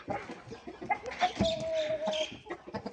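An imported Makiyol rooster, a heavy five-kilo bird, clucks and calls at close range in a farmyard pen, with a drawn-out vocal note in the middle and other fowl and background noise around it.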